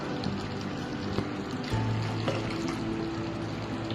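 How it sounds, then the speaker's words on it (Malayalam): Hot water poured into a pan of simmering chicken korma, a steady liquid stream and trickle running for several seconds at close range with no talk over it. "ഇനി ഇത് കുറച്ച് ചൂടുവെള്ളം ചേർത്ത് ഒന്ന് ഒഴിച്ചു കൊടുക്കാം"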